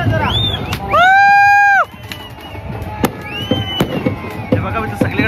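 At a village festival celebrating a deity's arrival, firework rockets whistle upward in rising shrieks, followed by sharp scattered bangs, with a crowd murmuring and cheering around them.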